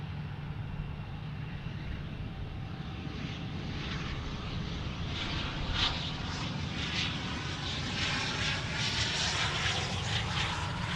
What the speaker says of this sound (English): Another Gulfstream flying in.